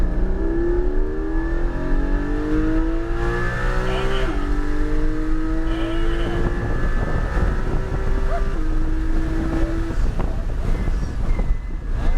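Race car accelerating hard down a straight at Portland International Speedway, engine note climbing through several gear changes under constant wind rush, heard from inside the cockpit.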